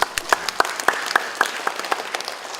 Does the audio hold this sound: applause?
yes